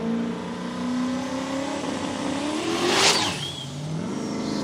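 Radial-tire drag racing car at a Willowbank Australia drag strip, its boosted engine building turbo spool and then launching, a loud sustained rising engine roar with a whistling spool that peaks and rolls away.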